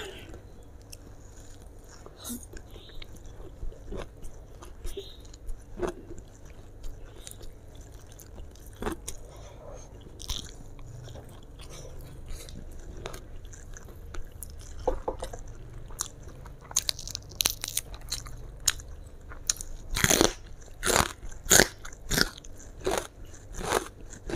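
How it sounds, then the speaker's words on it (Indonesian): Someone bites and chews raw bitter melon served as a fresh side with grilled woku chicken. The close, crisp crunches come in irregular bursts and grow louder and sharper toward the end, with no talking. "Lalapan parenya enak, renyah."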